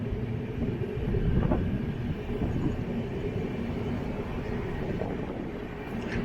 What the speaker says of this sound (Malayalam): ഒരു വാപ് 7 ഹൗൾഡ് ട്രെയിൻ വരുന്നുണ്ട്